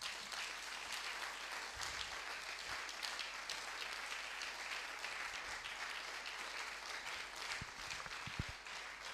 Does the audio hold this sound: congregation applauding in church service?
yes